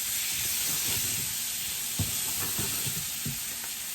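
Mushroom and parmesan risotto being stirred in a hot pan over medium heat, a soft sizzle and hiss broken by several scraping, clacking spoon strokes, close and alone.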